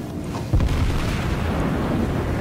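A naval gun fires in World of Warships aboard the battleship New York, one deep booming blast followed by a rumbling roll that fills the rest of the moment.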